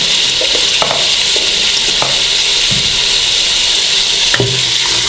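Mutton sizzles and fries in a pot with black pepper powder and turmeric for yakhni, a steady close hiss broken by a few scattered stirring clinks and scrapes, with no talking.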